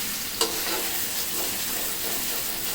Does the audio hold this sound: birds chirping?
no